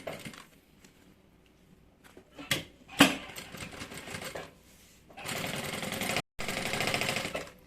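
A sewing machine runs a seam along a bag lining from one tip to the other, starting with a few short, uneven bursts and then running in two steady, loud stretches split by a brief pause.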